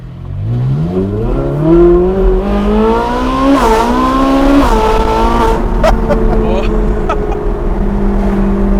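A Ferrari 458 Speciale drives on a track, its engine rising steadily through the gears with sharp shift breaks, loud and close from inside the car, a faint carbon-brake squeal near the end.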